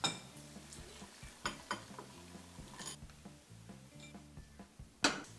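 Kitchen clatter while broth for Korean sundubu jjigae is poured through a strainer: light clinks of metal and dishes, scattered taps and a few sharper knocks near the end, fairly quiet and close, with no voices.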